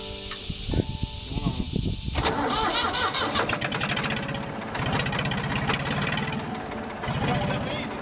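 A Ford backhoe engine under rebuild cranks for about two seconds, fires and settles into a loud, close, rough running rumble with a fast pulsing beat, while people talk briefly at the start.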